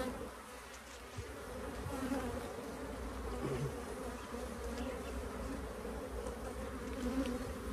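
Honeybees buzz steadily around an open hive during inspection, a dense, continuous hum close by, with faint handling noises and no speech.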